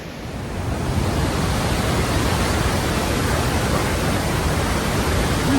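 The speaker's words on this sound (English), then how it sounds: "You tell me water doesn't have a voice. Listen to that. That's a thunderous voice saying, take me to the ocean." A Michigan waterfall swollen by spring thaw roars as river water rushes over it, a dense, steady, loud wash of noise that swells in over the first second and then holds constant.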